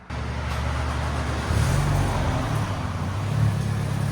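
A 1997 VW Golf GTI 16V with the muffler deleted runs close by, its exhaust giving a steady low drone that rises in a couple of brief revs before settling.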